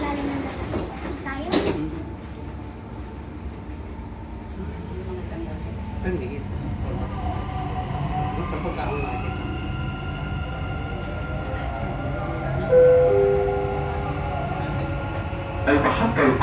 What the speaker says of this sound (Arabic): الأبواب تغلق. Doors closing.